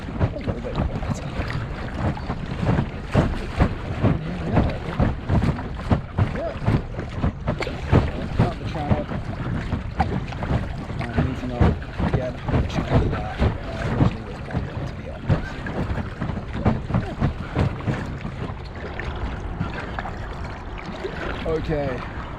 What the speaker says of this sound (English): I'm trying to paddle and stay out of the waves just to keep the boat a little bit quieter.